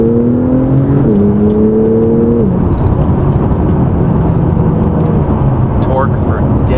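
A Porsche 911 Carrera 4S accelerates on a dry winter road, its engine note rising in pitch through a gear change inside the cabin, with strong road and wind roar throughout.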